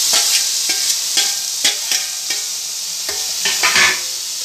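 Chicken pieces for momo filling tossed into a hot pan and stirred, with a steady sizzle and a series of close, sharp scraping stirs at a quick, uneven rhythm, no voices.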